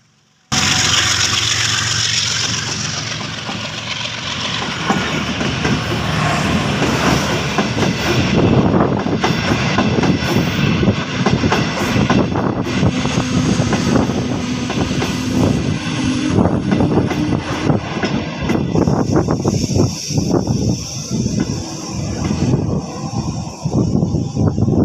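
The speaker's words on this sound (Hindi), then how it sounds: "साद रफ़ीक साहब को आपने सुना और अब आइए देखते हैं कि ये ट्रेन का ब्रेक कैसे लगता है।" A passenger train braking, with a loud, continuous rumble of wheels on rail and rattling carriages that stays close and heavy for the whole stretch, carrying faint screeching and clatter.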